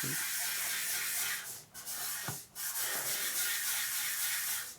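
Steady abrasive rubbing and grinding of a hone in engine cylinder bores, loud and continuous, with two brief pauses partway through before the scraping resumes.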